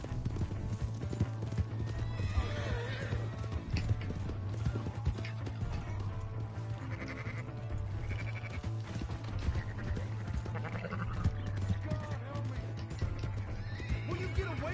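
A horse in the video game Red Dead Redemption 2 clip-clops at a steady pace with repeated whinnies and neighs, amid game music and background sounds, with voices talking throughout.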